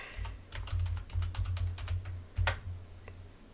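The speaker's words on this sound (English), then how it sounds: "Or let me type workout." Fingers type on a computer keyboard in a quick, uneven run of clicky keystrokes that pause briefly, then resume with a few final taps, close and fairly quiet.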